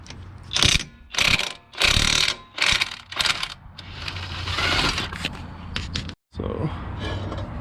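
Pulling a Racing Hart wheel fitted with 2-inch spacers off a Nissan 240SX project car, heard as loud, close bursts of ratcheting, clattering mechanical noise with brief pauses between them.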